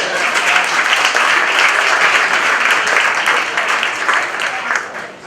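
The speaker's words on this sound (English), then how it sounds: "Let's give each other a round of applause." A dense, steady round of applause from a sizeable audience at a university student reception, loud and sustained before tapering off at the end.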